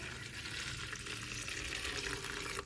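Boiling water is poured over cleaned snakehead fish to blanch it, making a steady rushing, splashing hiss that runs close and unbroken before cutting off near the end.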